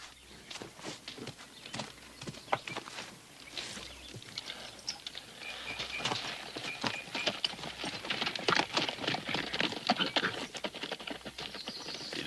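A horse's hooves clip-clop in an irregular, steady rhythm on hard ground, moderately close and growing slightly louder, over a background of outdoor noise with no talking.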